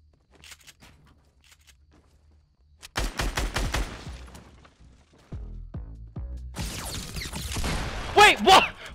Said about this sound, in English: Dude, how many shots was that?